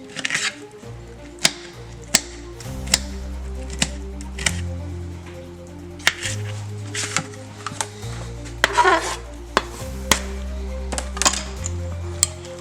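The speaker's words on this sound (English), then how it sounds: "And then I grab a jalapeno and just cut it like this." A knife slices a jalapeno on a cutting board for cucumber-tomato pico de gallo, with sharp, irregular chops spread over the stretch under soft background music.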